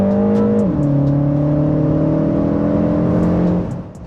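A 2025 MINI Cooper S Convertible accelerates hard during a 0 to 100 km/h run, its engine note droning loud and close with a gear change producing a stepped pitch drop and a steady pull before easing off at the end.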